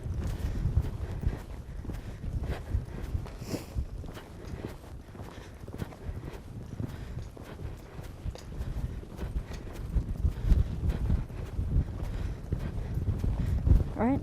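A colt being started under saddle lopes in a training session, its hooves drumming a steady, rolling clip-clop on the ground, close and continuous with loud low thuds throughout.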